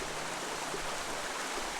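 Stream water flows steadily at a meditation art school in Gangwon, making a continuous, even broadband rush with no breaks or voices.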